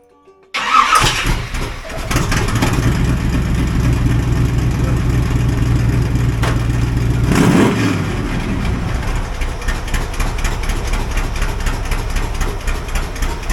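An old car engine cranks briefly, catches and starts, then settles into a steady, loud idle that continues to the end, with a short surge in revs partway through.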